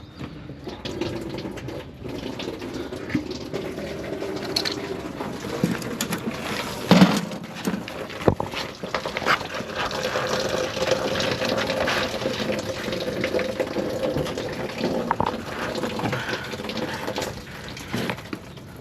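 Engine coolant running from a Ford Lightning truck radiator with a blown head gasket into a catch pan, a continuous splashing, trickling pour with a few louder knocks partway through and birds cooing nearby.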